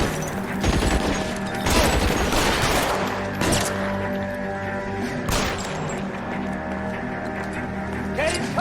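Rapid bursts of gunfire crack through an L.A. Noire shootout, including a machine pistol, with dense overlapping shots and a few sharp louder blasts near the two- and five-second marks.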